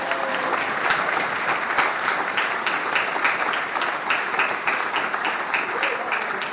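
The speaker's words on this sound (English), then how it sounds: "let's all give our new members a round of applause" A congregation applauds new members in a steady, dense round of clapping at even loudness throughout, with no voices standing out.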